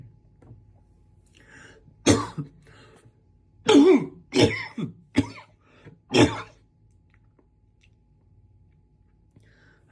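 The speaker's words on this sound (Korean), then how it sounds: "또 기침이 나오네요" A handful of harsh coughs in separate bursts, close and loud, spread over several seconds with quiet gaps between them and no talking.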